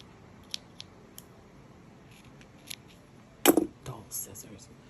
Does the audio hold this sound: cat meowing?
no